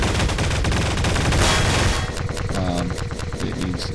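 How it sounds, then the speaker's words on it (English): Rapid automatic gunfire from a turret in Garry's Mod, a loud continuous burst that then breaks into a fast run of separate shots, with no talking over it. "Yeah, so it's firing at me, but it's not doing any damage to me or it."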